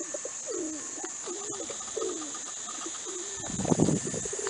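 Pigeons coo repeatedly in low, rolling phrases with a steady high hiss behind them, and a brief flutter or rustle swells near the end.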